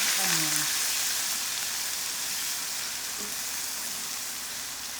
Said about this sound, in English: So we will let cook onion for 4 to 5 minutes.